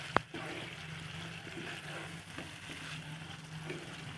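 Ginger, garlic and pepper paste fries with local chicken for a gravy, a soft steady sizzle after a single sharp clink at the start, quiet and close.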